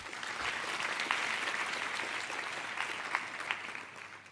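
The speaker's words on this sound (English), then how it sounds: "And that's her applause." An audience at a panel on artificial intelligence in the media claps in sustained, even applause, with a few sharper individual claps standing out toward the end.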